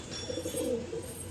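A pigeon coos in a loft, a soft low rolling call swelling and fading over a second or so, close by against a faint steady background hiss.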